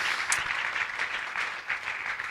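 A church congregation applauds for the Lord, with dense, steady, continuous clapping filling the room, fairly loud and close, with no voices standing out.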